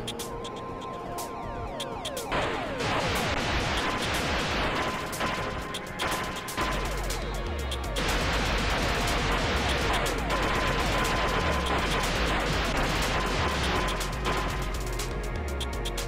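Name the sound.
phaser shots from the video game Encounter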